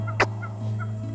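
Turkeys give one short gobble burst near the start over a steady low hum, with a few fainter calls after it.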